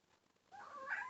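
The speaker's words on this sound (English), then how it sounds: "Please excuse my cat." A house cat meows during a family vlog, first faint, then a clear, drawn-out meow that swells louder toward the end, heard alone without talk.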